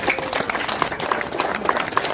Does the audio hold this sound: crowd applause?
yes